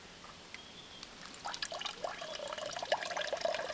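Water is poured slowly through a makeshift leaf filter at a rainy bush shelter, building from scattered drips into a steady trickling, splashing stream close by.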